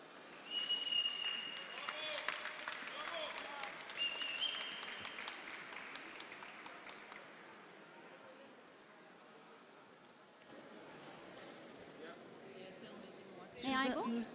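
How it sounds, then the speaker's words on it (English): Audience applause for a visiting team of women from Turkey at a resuscitation council event, a dense patter of clapping under a murmuring crowd and some talk that fades midway, then a brief sharp burst of noise near the end. "Please give them a big round of applause."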